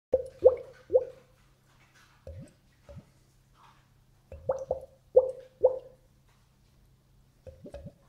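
A Devon pottery glug jug pours liquid in short clusters of hollow, gurgling glugs, several in quick succession, then a pause before the next run, all close and fairly quiet.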